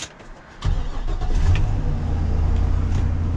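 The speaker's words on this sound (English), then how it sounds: "give it a cold start" A Harley-Davidson engine with a Black Widow 250 cam cranks briefly and fires up from cold, then settles into a steady, low rumbling idle close by.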